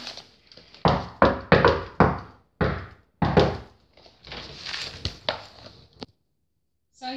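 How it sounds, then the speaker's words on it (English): A series of sharp knocks on a door, roughly a dozen raps in uneven clusters, loud and close, with brief pauses between groups and no voices. "Alright, let's do the knock."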